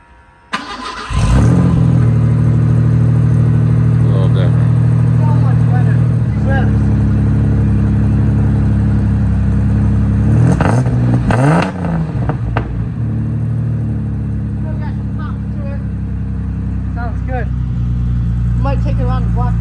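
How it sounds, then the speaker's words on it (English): A 1988 Ford Bronco II with a newly installed exhaust starts up with a sharp crank, settles into a loud, close idle, then gets a few quick revs that rise and fall before returning to a steady idle. "Start it up, give it a few revs. Sounds a lot better."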